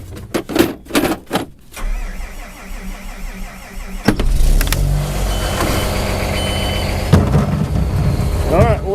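An old bulldozer fitted with a ripper starts on a cold morning. A few short cranking bursts come first, then the diesel catches with a loud rumble and settles into a steady, close idle.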